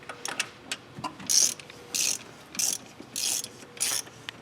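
A ratchet snugs bolts on a 2012 Chevy Silverado during a cam install, with six crisp clicking bursts in an even, regular rhythm, close and clear with no voices.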